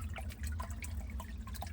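Cool spring water drips from a cliffside with a quick, irregular patter of small drops. The sound is faint and close, over a low steady background hum.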